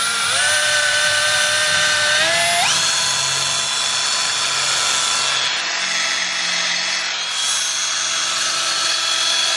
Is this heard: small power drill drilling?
yes